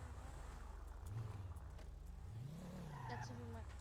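A car engine is revved close by while the vehicle sits near a gate. Its pitch climbs and falls in a couple of surges over a steady idle, and people talk over it.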